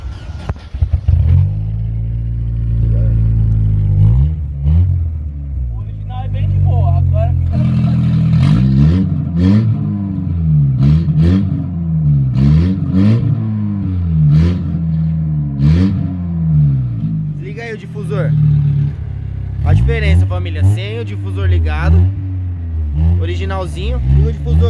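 Opel Vectra fitted with an aftermarket exhaust, its engine blipped and revved repeatedly, rising and falling in pitch close by, while people talk over and between the revs.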